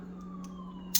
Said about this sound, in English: I don't know if you guys can hear the sirens in the background